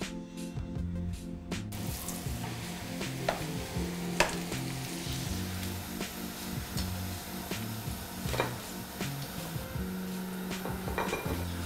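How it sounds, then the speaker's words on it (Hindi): Potato veg nuggets bound with poha deep-fry in Emami Smart Balance oil, a continuous bubbling sizzle with clinks of a utensil against the pan and scattered crackles, fairly quiet and close. "यहाँ पे फ्राई करने के लिए मैं यूज कर रहा हूँ Emami healthy and tasty smart balance oil"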